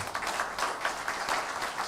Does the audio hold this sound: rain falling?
no